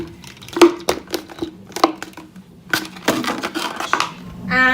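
Material for a garden bug hotel being cut across the end, a run of crisp irregular snips and crunching crackles, close and fairly loud, ending in a quick rattling burst.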